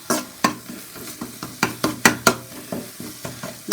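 A spoon stirs egg into homemade soup in a pot with quick, evenly spaced strokes, each one a sharp clack followed by a short splash, close and fairly loud.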